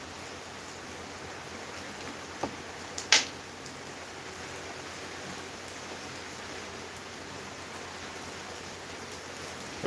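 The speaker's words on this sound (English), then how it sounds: "I'm gonna see how heavy the rain is now." Heavy rain pours down steadily during Hurricane Beryl, a dense continuous hiss close by with a couple of brief sharp knocks early on and no talking.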